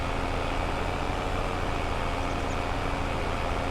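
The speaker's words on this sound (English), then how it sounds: "And you can kind of hear in the background the next truck pulling up." A truck in Farming Simulator 22 pulls up during an oat harvest on a Western Australia farm. Its steady, low engine rumble hums evenly throughout, with no voices.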